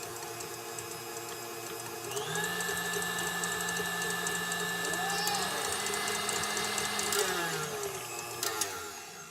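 An electric mixer whirs steadily as butter is mixed for Oreo truffle pops, its motor tone shifting pitch partway through and running close and loud throughout.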